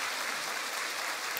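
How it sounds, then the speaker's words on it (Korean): A church congregation applauds to welcome visiting pastors' families, producing a dense, steady wash of many hands clapping throughout, fairly distant and even in level. "박수로 한번 우리 축하하겠습니다."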